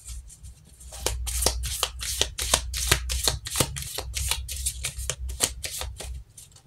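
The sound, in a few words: shuffling cards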